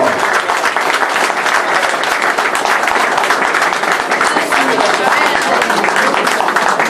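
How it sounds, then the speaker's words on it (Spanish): A crowd in an auditorium applauds loudly, dense continuous clapping that stays strong and even from start to finish, with a voice faintly audible beneath the noise. "entrenador Pedro Níquel Filio, fuerte el aplauso"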